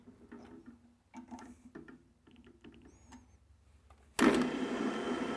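A RIKON floor drill press with a Forstner bit sits through a few faint clicks and taps, then bursts into loud, harsh, broadband drilling noise for the last second or so.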